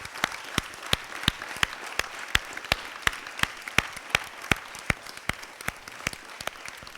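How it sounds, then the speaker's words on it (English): An audience applauds mentors at an Islamic community talk, with one prominent near clap in a fast, regular rhythm standing out from a softer crowd of clapping for about seven seconds. "So again, please, let's give a round of applause for our mentors."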